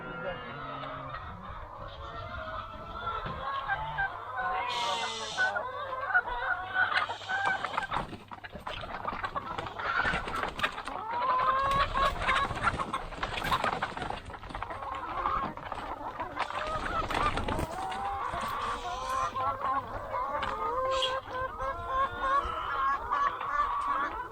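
A flock of chickens clucks continuously nearby, busy overlapping calls with occasional louder squawks and some rustling.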